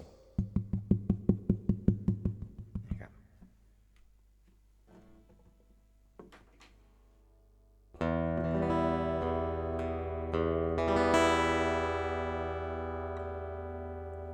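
A Takamine FP450SMSB acoustic guitar sounds through its pickup alone, first a quick run of notes and quiet picking, then full ringing strummed chords that sustain.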